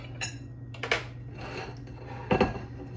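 A plate is set down on a kitchen surface while a steak supper with stir-fried greens, garlic bread and baked potato is served, giving a couple of crisp ceramic knocks and light scraping.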